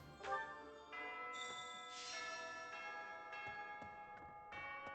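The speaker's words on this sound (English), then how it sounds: "that's the Fire Emblem theme as the bell" A bell chime plays the Fire Emblem theme in Fire Emblem Three Houses, with soft ringing tones struck one after another in a slow melodic line, each note sustaining and overlapping the next at low volume.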